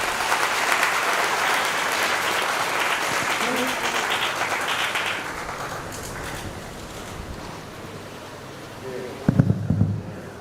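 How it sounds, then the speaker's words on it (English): Students at a college event applaud with dense, sustained clapping that slowly thins and fades over several seconds, with a few louder thumps near the end. "Students, please give a big round of applause."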